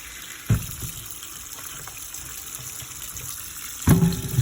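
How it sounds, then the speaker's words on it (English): Tap water runs into a stoppered sink, a steady low trickle and gush with two louder splashing bursts near the start and end, no talking. "I'm going to fill it up with some sink water, just tap water."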